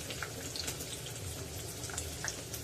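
Sliced onion with cumin frying in hot oil while cooking a leafy green dish, a steady close hiss and crackle throughout, with no voices.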